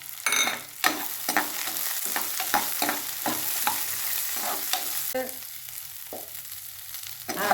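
Small onions (shallots) sautéing in a pan with moong dal, a spatula scraping and stirring in a steady series of strokes over a soft sizzle, close and moderately loud.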